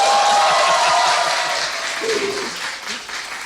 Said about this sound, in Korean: 다시 박수